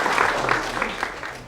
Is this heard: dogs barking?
no